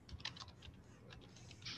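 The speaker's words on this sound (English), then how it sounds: "I'm typing it in my chat box." Soft, fairly steady computer keyboard typing, an even patter of key presses under a constant background hum, faint and somewhat distant, with no voices.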